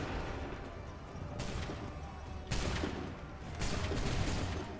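Musket volleys fired on command in the video game Assassin's Creed III, a few broad crashing blasts spaced a second or so apart, reverberant and moderately distant over a continuous battlefield din.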